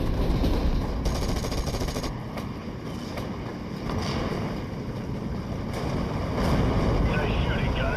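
Machine gun fire in the World War II strategy game Steel Division: Normandy 44, sustained bursts mixed with distant battle noise and rumbling, running loudly throughout beneath a voice.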